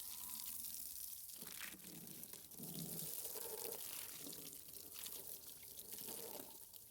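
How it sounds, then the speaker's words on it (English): A garden hose sprays water steadily across a Toro Super Recycler lawn mower to wash off dust, a continuous hissing splash with shifting tones as the stream moves. "I'm going to take a moment to hose down the mower to get rid of the dust"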